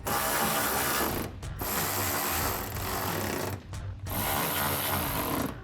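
A ratchet tightens fender flare bolts on a 2024 Toyota Tacoma, giving long, loud runs of fast buzzing clicks split by two short breaks, close up with no speech.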